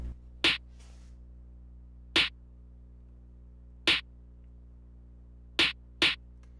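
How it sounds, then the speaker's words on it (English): A basic snare drum pattern in a beat: sharp, bright snare hits land at a steady spaced interval, with a quick double hit near the end, over a quiet sustained low hum. "we have a very basic snare pattern, except a little double hit here right before bar 5 starts"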